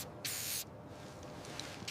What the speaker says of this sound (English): Almost done with the antiseptic spray.